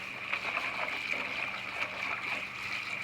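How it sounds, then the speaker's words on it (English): Trimmed asparagus ends rinsed under a running kitchen tap, a soft steady hiss of flowing water with faint splashing as the stalks move through the stream. "just give our ends a little wash"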